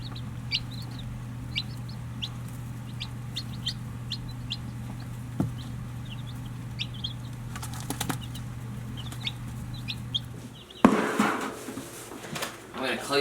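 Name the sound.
hybrid chickens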